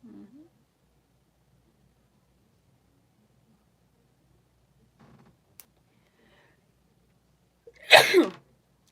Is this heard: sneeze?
yes